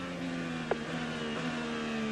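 IndyCar race car engine heard from the onboard camera during the 2017 Detroit Grand Prix on the Belle Isle street circuit: a steady, close, high-pitched engine drone with a brief sharp blip midway and no talk.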